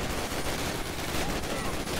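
An MG30 machine gun hammers out a continuous stream of fire in the World War II shooter Call of Duty: United Offensive, a dense, unbroken roar of close automatic shots with no gaps.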